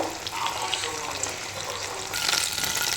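Pomfret fish fry lightly in oil with a continuous close sizzle and bubbling that swells louder near the end, with faint background noise and no speech.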